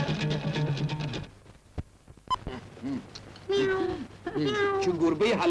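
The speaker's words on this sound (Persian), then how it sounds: "چه گربه حلال زده یه ماست" A cat meows several times in short, rising calls, with people talking before and between the meows.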